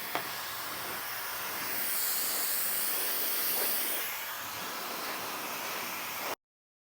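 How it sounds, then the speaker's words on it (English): A high-speed brushless hair dryer blows with a continuous airy hiss and a high whine, swelling slightly in the middle before cutting off abruptly. "It's a high-speed brushless motor and fast drying."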